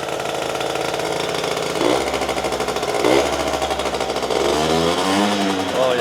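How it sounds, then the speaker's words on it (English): Old rare scooter engine running with no air box and a poor exhaust pipe, giving a loud rattly buzz with a few throttle blips rising and falling in pitch. "I'm surprised it's actually running that good without an air box."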